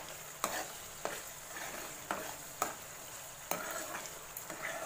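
Butter is stirred in a pan over a low gas flame while it fries down into ghee, giving a soft continuous sizzle broken by regular scraping strokes of a spoon about once a second.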